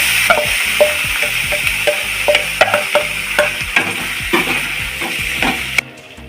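Spoon stirring banana stem poriyal with dried chillies and curry leaves in a pan, close, repeated scraping strokes in an irregular rhythm over a steady sizzle, ending abruptly.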